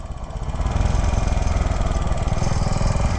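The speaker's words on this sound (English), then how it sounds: "And it runs like a brand new motorcycle." A 1967 Harley-Davidson Sprint motorcycle engine runs steadily nearby, a loud, even, low throbbing putter that rises slightly at the start and then holds, with no speech.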